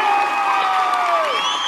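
An audience at a comedy stage event cheers and claps to welcome a guest, a dense continuous wash of applause with whoops and crowd shouts, loud and sustained throughout.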